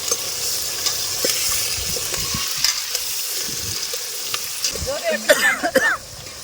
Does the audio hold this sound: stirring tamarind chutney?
yes